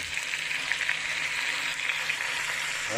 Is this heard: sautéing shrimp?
yes